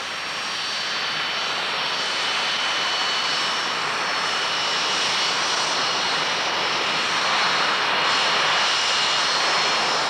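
A Provost training aircraft's engine running after landing, a loud, steady broadband roar that holds constant throughout, close by, with no talking.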